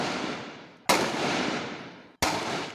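Gunshots ring out during a shootout between criminals and police in Rio de Janeiro's north zone: two sharp, loud cracks about 1.3 seconds apart, each followed by a long echoing reverberation that decays slowly.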